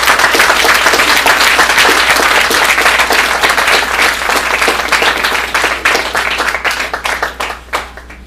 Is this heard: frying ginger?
no